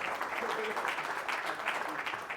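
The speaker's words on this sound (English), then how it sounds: "Give him a nice round of applause one more time," A seminar audience claps through a short burst of applause, many hands blending into a steady, moderately loud patter while voices overlap beneath it.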